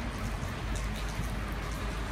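Rain falling in a car park, a steady, even patter of drops spread across the whole stretch at moderate distance, with no talk.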